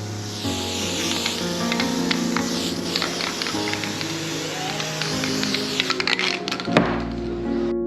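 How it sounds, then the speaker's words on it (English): Spray paint hisses continuously onto foam, with a steady mechanical whine underneath, broken by a few sharp taps and clicks toward the end. "We're gonna spray the material"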